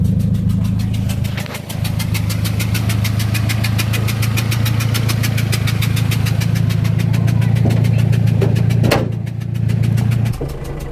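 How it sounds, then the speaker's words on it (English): A carbureted Volvo 140 Turbo coupe engine with a blown exhaust gasket idles loudly and close, with a rapid, ticking puff running through the steady rumble, briefly dipping and surging near the end. "I blew the exhaust gasket out"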